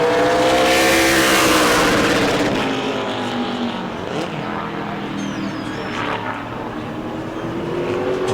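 Super Late Model race car at New Smyrna speedway qualifying, engine roaring loud as it passes close, then fading and droning steadily as it laps at speed around the track.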